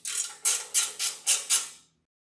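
A ratchet wrench tightening a bolt on a 1970 El Camino, six quick, close, crisp clicking strokes in a steady rhythm, then silence.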